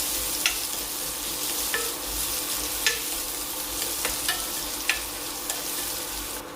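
Carrot sautés in a pan with a steady, even sizzle, while a spoon stirs and scrapes against the metal every second or so, close up and alone without any voices.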